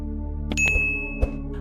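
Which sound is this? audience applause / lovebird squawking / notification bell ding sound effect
notification bell ding sound effect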